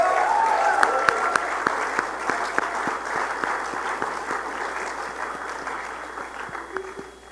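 Sustained audience applause at a congress gathering in Los Angeles, a dense wash of many hands clapping that holds steady for several seconds and slowly fades, with a few sharper individual claps standing out.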